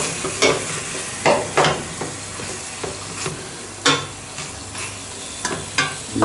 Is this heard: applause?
no